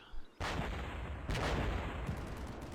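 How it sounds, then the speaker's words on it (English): Gunfire in the video game Combat Mission Shock Force 2, an urban battle with dense, continuous bursts of shooting that swell and crack loudly in overlapping volleys throughout. "he's shooting this area up."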